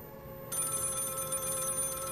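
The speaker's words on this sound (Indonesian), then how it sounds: "Tiba-tiba telepon di atas meja ruangan tengah berbunyi nyaring." A telephone on a table in a central room rings loudly, its bright bell trill starting abruptly after a brief pause and continuing steadily, close and insistent, with no voices.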